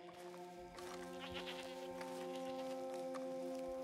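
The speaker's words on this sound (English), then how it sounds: "I hear a goat." A goat bleats inside the open-world western game Red Dead Redemption 2, a few short wavering cries at moderate distance over a steady tonal ambient bed.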